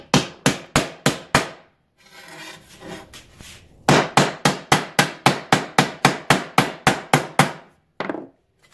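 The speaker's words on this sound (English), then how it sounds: "And now I'm going to hammer that in, and hopefully it'll shrink it." Sheet metal on a tucking fork is struck by a hammer in a rapid series of sharp, loud blows, a brief rubbing or filing pause, then another long run of evenly spaced strikes, close up with no talking.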